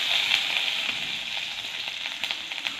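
Garlic frying in hot oil in a kadai, a steady close hiss and sizzle with scattered small crackles and pops throughout.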